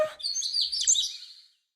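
A cartoon bird on a presenter's shoulder during a morning TV show gives a quick burst of bright, twittering chirps, close and clear, trailing off after about a second and a half.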